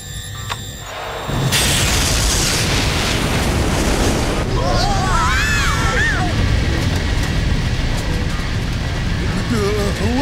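A cartoon rocket blasts off in a 1999 animated movie, a sudden roaring rumble that swells up and holds loud and steady, with high whistling swoops and voices cutting in over the din.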